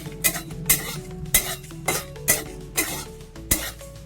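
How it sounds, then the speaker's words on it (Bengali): Cumin seeds are stirred in a dry wok with a metal spatula, producing about eight sharp scraping clinks in a steady rhythm, close and fairly quiet, with no voices. "শুকনো কড়াইতে আমি নেড়ে নিচ্ছি এটাকে ভালো করে।"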